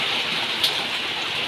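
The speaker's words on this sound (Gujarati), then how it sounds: "તમે જોઈ શકો છો ચોમાસાનો પહેલો વરસાદ થઈ ગયો છે" The first monsoon rain falls outside a shop, making a steady, even hiss of rain over a short stretch, with no voices.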